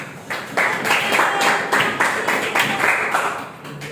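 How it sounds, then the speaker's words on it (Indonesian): Classroom applause for a student group after its presentation, a patter of claps from a small crowd at moderate loudness, steady for a few seconds. "beri tepuk tangan kepada kelompok 1 dong"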